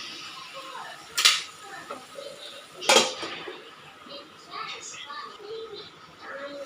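A lid is set onto a cooking pot while Malabar spinach leaves for a mashed bharta cook inside: two sharp metallic clanks about two seconds apart, with soft kitchen noise between them.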